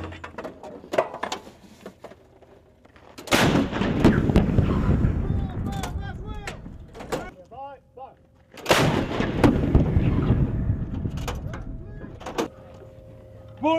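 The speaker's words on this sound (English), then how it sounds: "All clear, two out of charge." M777 howitzer firing artillery rounds in Afghanistan, two heavy booming blasts with rumbling decay amid breech and mechanism clanks, while soldiers call out commands nearby.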